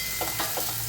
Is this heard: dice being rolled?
no